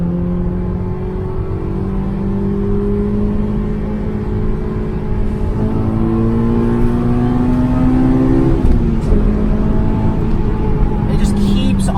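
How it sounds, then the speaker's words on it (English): A track-ready Honda S2000 AP1 with its 2-liter F20 four-cylinder VTEC engine revs hard while driving, its droning tone climbing steadily in pitch through the gears in a loud, close cabin, with a voice talking over it. "it literally just feels like this car just keeps on revving"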